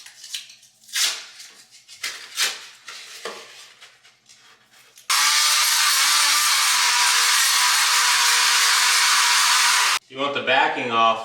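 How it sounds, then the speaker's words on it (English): An oscillating multi-tool cuts through the bottom of door trim, giving a steady loud buzzing whine for several seconds, with scraping and handling noises and a person talking before and after. "I just use a multi-tool"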